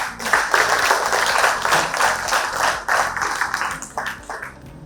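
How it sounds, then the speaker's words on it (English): Audience clapping for a woman presenter at a communication jubilee gathering, a broad steady patter of many hands filling the room, fairly loud and continuous with slight swells, then tapering. "please may you clap for her"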